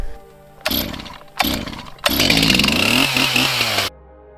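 A chainsaw cuts through a fallen tree lying across a vacuum sap line in a maple woods, starting with two short revving bursts and then a sustained loud cut under load before the engine drops back to idle.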